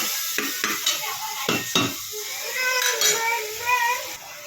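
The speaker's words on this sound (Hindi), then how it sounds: "उसको मेरे को 5 मिनट चलाना है, टोमेटो को अच्छी तरह पकाना है।" Tomatoes cooking in a pan for Sindhi khichdi are stirred with sharp spoon scrapes and clinks over a light sizzle, while someone talks throughout and a voice is briefly heard.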